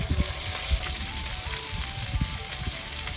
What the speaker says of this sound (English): So we'll get those green beans frying up.